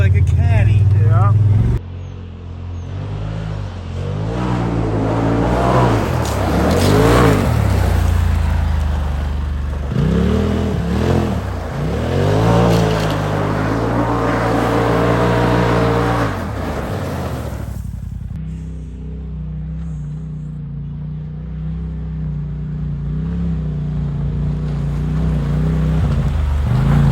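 A new UTV is driven around a dirt course: a loud engine revs and surges in waves, pitch rising and falling as it accelerates, with wind rush and people talking over it.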